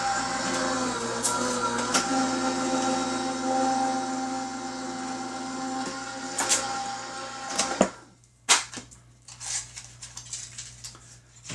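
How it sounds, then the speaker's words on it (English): An electric die-cutting machine feeds paper through with a steady, close mechanical hum and rolling drone for about eight seconds, then stops, leaving a few sharp clicks and handling taps. "So let's go ahead and get this die cut."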